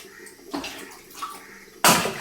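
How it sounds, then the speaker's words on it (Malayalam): Well water is poured from a bucket into washed rice: a few soft splashes and knocks, then a sudden loud gush of pouring at the end. "ഇതിനകത്തേക്ക് നമുക്ക് വെള്ളം ഒഴിക്കാം കേട്ടോ."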